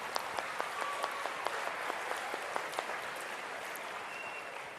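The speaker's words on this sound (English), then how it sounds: "Big round of applause to you guys." Audience applause fills a convention hall, a dense, steady wash of clapping with a few sharper claps standing out, holding fairly even for several seconds before easing slightly.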